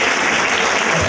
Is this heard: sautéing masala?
no